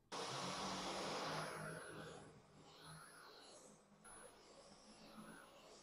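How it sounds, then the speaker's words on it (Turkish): A Dyson Cyclone V10 Absolute+ cordless vacuum cleaner running on a rug at medium power, a steady whining motor drone with airy hiss that swells and dips as it is pushed back and forth, fairly faint. "Şu anda orta seviyede süpürüyorum."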